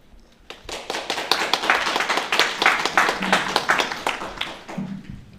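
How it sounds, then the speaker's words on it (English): Graduation audience applauding at a master's degree ceremony, a dense wash of many hands clapping steadily for several seconds, full and close, with a faint voice briefly underneath. "give yourselves a round of applause"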